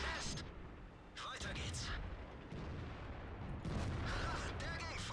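World of Tanks battle with a KV-1 tank firing HE shells: deep booming blasts with rumbling tails, loud and close amid continuous heavy battle noise, no talk.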